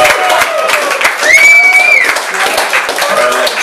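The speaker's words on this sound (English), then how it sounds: "Give yourselves a round of applause." Audience at a live comedy show applauding, a dense, loud wash of clapping and crowd noise, with a shrill whistle cutting through midway.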